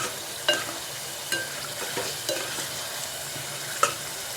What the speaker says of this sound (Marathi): आणि आता आपण टाकणार शेवग्याच्या शेंगा टाकून खूप छान लागतं रस्सा।